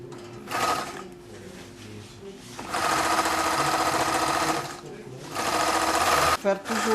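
A sewing machine stitches a seam on an unlined jacket-shirt, running loud and close in long whirring bursts that stop, start again and end with a brief back-stitch, with a voice speaking alongside.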